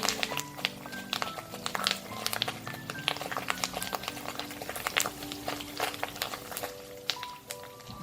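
Tofu pieces and stalks of curry leaves frying in oil for a Malaysian tofu and potato sambal, a busy bubbling crackle with dense sputtering pops, close and steady under a faint background tone.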